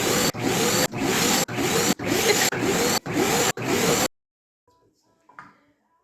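A vacuum cleaner is switched on and off in quick bursts, seven loud whooshing pulses, then near silence with a faint clunk.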